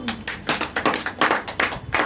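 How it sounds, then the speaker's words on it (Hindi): A class of students claps in a steady rhythmic beat, about a dozen sharp, evenly spaced claps close by with almost no talk. "ताली बजा दो"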